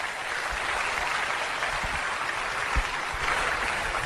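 Audience applause fills the hall, welcoming Meenakshi Rana onto the stage at a motivational entrepreneur event, with steady, dense clapping that holds evenly throughout.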